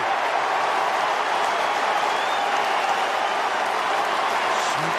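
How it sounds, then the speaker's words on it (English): A football crowd at Spotless Stadium during the 2016 AFL preliminary final between Greater Western Sydney and Western Bulldogs roars and claps after a goal, a dense, sustained cheer with a voice faintly underneath. "And the crowd jump out of their seats here at Spotless."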